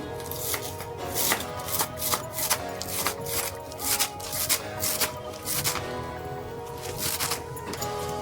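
A knife chops fresh spinach (palak) on a board for palak paneer, with rapid, even, crisp strokes close up throughout.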